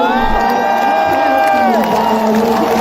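A crowd cheers and roars steadily at a poetry recital by a poet, with a raised voice carrying over the dense, continuous noise of the audience.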